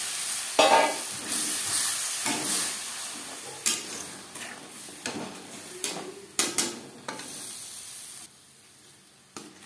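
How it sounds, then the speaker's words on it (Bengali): Spice paste and mashed tomato fry in a pan over low to medium flame for a Bengali fish curry, giving a steady soft sizzle broken by repeated scraping stirs that fade toward the end. "মশলা কষাবো লো টু মিডিয়াম ফ্লেমে।"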